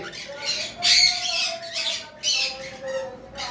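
Loud, harsh squawks come from albino cockatiels in a pair for sale, repeating in close bursts over a shrill background of other birds.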